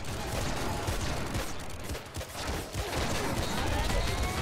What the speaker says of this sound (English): Just keep firing